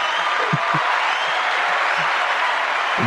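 Studio audience or podcast hosts clap for their show, a steady patter of hand claps running throughout, moderately loud and close, with no voices over it.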